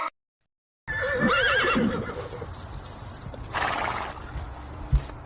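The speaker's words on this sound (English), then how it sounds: "H for horse." A horse gives a long, shaky whinny close by, then hooves knock and shuffle faintly over a low, steady background.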